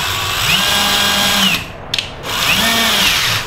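A power drill used to tap a thread runs in two steady whirring bursts, close and loud, rising to speed and winding down with a short pause and faint clicks between them.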